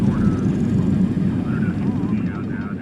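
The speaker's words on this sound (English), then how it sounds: "Sorry, jet taking off. It makes such a noise." A jet aircraft taking off from an aircraft carrier gives a loud, steady low roar that fills the whole stretch without letup, with faint voices beneath it.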